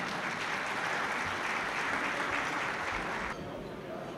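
Audience gives strong applause to welcome Captain Mustafa Can, founding president of a federation, at a gathering of federations in Çankırı; dense, steady clapping fills the room, then drops slightly in level near the end.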